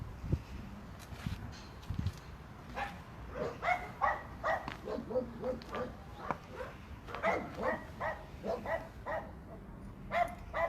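Several puppies yip and bark in a busy, overlapping chorus, with small whimpers mixed in. The short, high calls keep coming throughout, close and fairly quiet, and no one talks over them.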